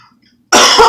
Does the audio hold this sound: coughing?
yes